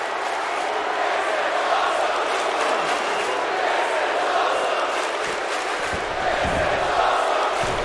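A wrestling crowd at a women's match roars with sustained, loud cheering and shouting that stays dense and steady throughout, with no clear speech on top.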